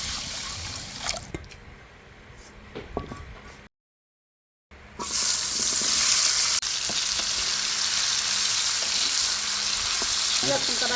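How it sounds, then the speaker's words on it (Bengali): Mung dal being lightly fried in a pan, a steady close sizzle with stirring scrapes, briefly cut to silence midway before returning louder and continuous. "মুগের ডালটা হালকা করে ভাজে নিয়ে তারপর রান্না লাগে"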